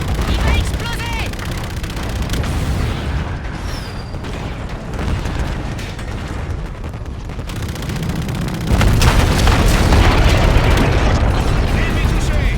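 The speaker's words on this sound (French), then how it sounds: "Il va exploser!" Explosion in the video game Call of Duty Infinite Warfare during the campaign, a dense roar of booms and gunfire that fills the mix continuously and swells louder near the end, with game voices underneath.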